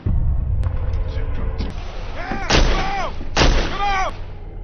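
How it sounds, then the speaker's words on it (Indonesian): Several gunshots fired toward a forest: two sharp, loud blasts with ringing echoes stand out against a rumbling background, with fainter cracks earlier in the clip. "tanpa ragu melepaskan beberapa tembakan ke arah hutan"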